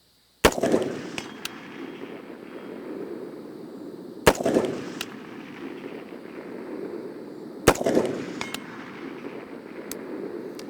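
Three sharp rifle shots ring out from a sitting position at a range, spaced a few seconds apart, each a loud crack followed by a long echoing decay.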